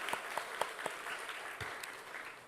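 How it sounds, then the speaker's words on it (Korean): Church congregation applauding local residents at a neighborhood sharing festival during a Sunday morning service, a short burst of steady clapping with a few sharper claps standing out, moderately close and fading toward the end. "우리 그분들 위해서 박수 한번 격려했으면 좋겠습니다"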